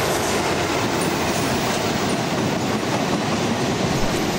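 An EWS coal train of empty wagons rolling past on the rails near a coal terminal in Ayrshire, a loud, continuous rumble with clattering wheels and faint squeal, close by, with no voices.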